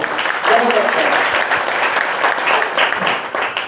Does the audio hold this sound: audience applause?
yes